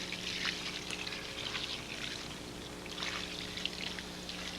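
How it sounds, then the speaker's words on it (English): Water is poured onto campfire coals in a Vermont forest, a steady hiss and trickle lasting several seconds over a low background hum, close and moderately loud. "Got a lot of water in there on those coals."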